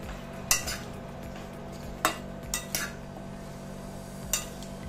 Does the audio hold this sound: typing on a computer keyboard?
no